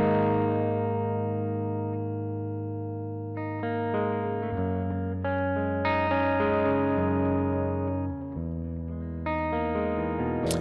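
Electric guitar with a single-coil pickup played through a Richie Kotzen Fly Rig multi-effects pedal, ringing sustained chords and melodic notes with a warm, slightly driven, chorused tone, steady and unaccompanied.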